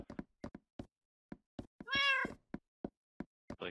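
A single drawn-out meow from a cat in Minecraft, the video game, set among a steady series of short, soft knocking thuds, with no one talking.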